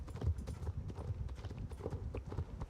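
In a video game, a horse's hooves clip-clop in a quick, steady rhythm of repeated thuds as the horse is ridden, fairly close, with no voices over it.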